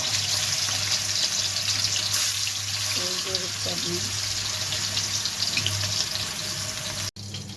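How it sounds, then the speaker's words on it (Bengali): Steady loud sizzling of pomfret fish frying in oil, a continuous crackling hiss throughout with a brief clatter midway. "এখন আমি রূপচাঁদ মাছ ভাজি করব এই যে আমি রূপচাঁদ মাছ দিচ্ছি"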